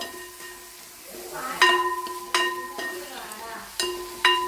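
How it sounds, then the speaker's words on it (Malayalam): Noodles tossed with a little masala powder in a pan, stirred with repeated metallic clanks and ringing taps of a spoon against the pan over a faint sizzle. "ഒരു ലേശം മസാലപ്പൊടി ഇത്ര ഇട്ട് കൊടുത്തിട്ട് ഒന്നുകൂടെ ഒന്ന് ഇളക്കി"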